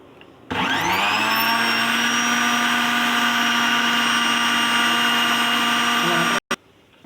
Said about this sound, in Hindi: थोड़ा सा चिल वाटर ऐड करूंगी। और ग्राइंड करना शुरू करते हैं।